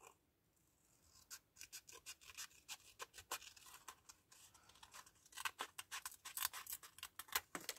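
Scissors snip through folded paper while a paper butterfly embellishment is being made, a quiet series of short crisp cuts that grow busier and more rapid toward the end, heard close and with no talk.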